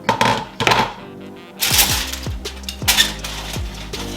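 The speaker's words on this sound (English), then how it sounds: "So let me take this lid off." A lid lifted off a pot of cooked rice and peas, with several sharp metallic clinks and knocks in quick succession, close and fairly loud, no talking.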